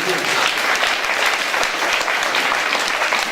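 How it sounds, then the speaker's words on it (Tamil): A church congregation claps steadily throughout a Sunday service, dense and continuous applause filling the space. "கைதட்டுவோமா? கைதட்டுவோமா?"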